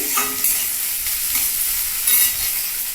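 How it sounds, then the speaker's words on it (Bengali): Spices and chopped coconut fry in a pan as they are stirred, a steady sizzle with scraping stir strokes recurring every second or so, close and fairly loud with no talking. "এটা আস্তে আস্তে ভাজা হতে থাকুক"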